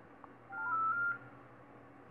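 Call tones on an Android phone during an outgoing call attempt: a steady electronic tone holds for about half a second, then stops, with faint background hum and no talking.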